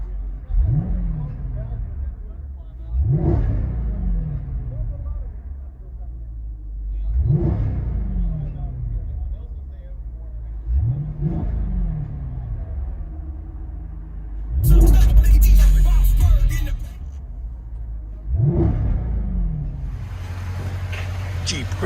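Jeep Grand Cherokee SRT with a 6.4L HEMI V8, mid-muffler delete and X-pipe, heard from inside the cabin: a deep exhaust rumble rising and falling in repeated rev bursts every few seconds, loud and close, with a brief harsh noise burst midway.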